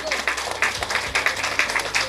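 An audience at the Surat women's day award ceremony applauds award winner Sajeda Chand, steady crowd clapping with some individual sharp claps standing out, over a low background hum and possible faint voices.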